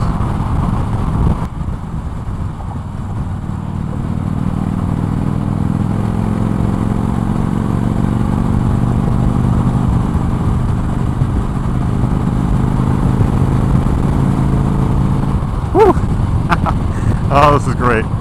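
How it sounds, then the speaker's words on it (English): A motorcycle cruises on the highway at about 75 mph, its engine droning steadily beneath strong wind rush and someone talking throughout, with a brief clatter near the end. "I know highway riding is not like something that most people love. But on a bike like this"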